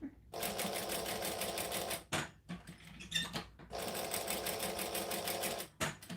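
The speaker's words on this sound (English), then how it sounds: "So I'm only sewing slowly." A sewing machine stitches slowly through taped fabric for a Mini Denver bag. Two close whirring runs are broken by a short pause with soft clicks and handling noise.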